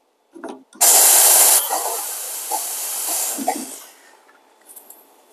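Close, loud hiss of an espresso machine steam wand being purged: a harsh burst for about a second, then a steady, softer rush of steam that tapers off over several seconds.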